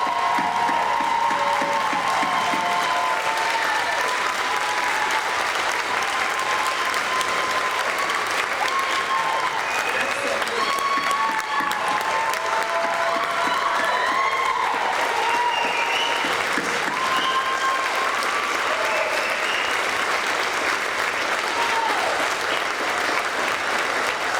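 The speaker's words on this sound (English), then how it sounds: "can we get one more round of applause for the class of 2022?" Graduation crowd at a summer ceremony for the class of 2022 breaks into sustained, dense applause with scattered cheers, steady and loud throughout.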